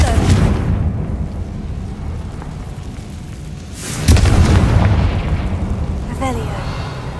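Fiery Confringo spell blasts in Hogwarts Legacy, a deep booming burst near the middle followed by a rumbling tail, set over a continuous low game ambience with faint magical chimes.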